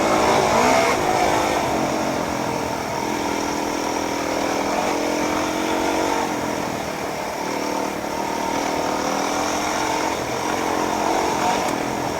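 A small dirt bike engine revs and drones steadily on a trail, rising and falling with throttle over bumps, close by and continuous with no talk.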